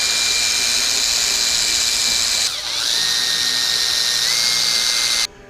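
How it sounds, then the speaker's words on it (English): A 2.5 mm drill bit spins at high speed with a steady whine, dipping briefly in pitch midway as it bites into the workpiece for a 1/14-scale lowboy trailer, then cuts off abruptly. "So I think I'm gonna drill a hole and tack them from the back."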